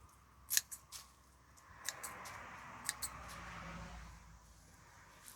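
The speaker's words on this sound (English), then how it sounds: "when you cut your beet tops off, if you're growing beets, you want to leave a little bit of this" Scissors or a blade snip through the leafy tops of freshly harvested garden beets, producing several crisp, close cuts spaced irregularly over quiet outdoor background noise.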